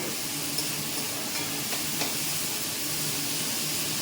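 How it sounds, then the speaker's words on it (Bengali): Boiled chickpeas fry in a pan with a continuous close sizzle and hiss, a few light clicks of stirring on top. "একটু ভাজা ভাজা হয়ে যাক"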